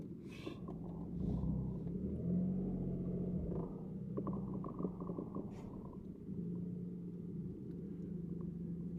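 A three-cylinder car drives on the road on a cold, icy morning, its engine a steady low rumble and hum with slight revving swells, heard from inside the car with no talk.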